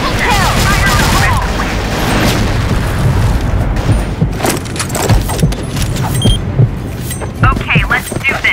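A grenade blows up in the CrossFire shooter game during a match on the Pelourinho map. A loud opening boom is followed by scattered gunfire, clatter and sharp game effects, with voice callouts mixed in.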